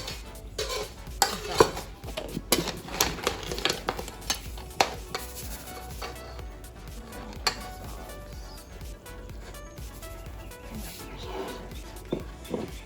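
Ingredients for Bahamian crab and rice frying in a pot, a soft sizzle under frequent spoon scrapes and clinks against the pan, with occasional talk in between.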